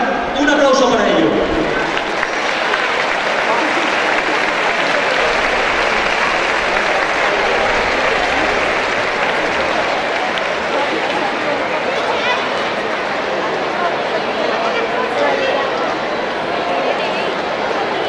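A crowd at a season-closing ceremony for an inter-school football league applauds the Club de Fútbol Abarán school, sustained, dense clapping that stays loud and even throughout, with some voices mixed in.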